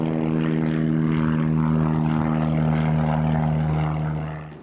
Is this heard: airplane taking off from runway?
yes